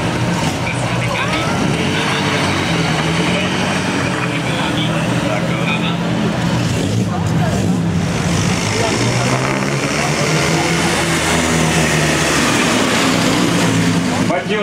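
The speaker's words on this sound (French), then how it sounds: "Voici maintenant une redoutable type 43" A Bugatti Type 43 Grand Sport racing roadster from 1927 at the Molsheim Bugatti festival, its engine droning loudly and continuously through the whole stretch, with an announcer talking over it.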